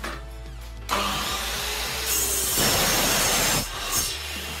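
An AEG PS 216 L3 18V cordless radial miter saw with a 216 mm blade spins up to a loud high whine, rises further as it cuts, then winds down, close and alone.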